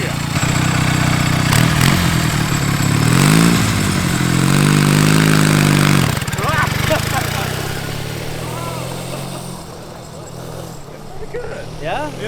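A homemade twin-cylinder, four-speed mini bike engine built from junkyard parts runs loudly nearby. It revs up and down in a couple of rising swells, then settles to a lower idle while people talk over it.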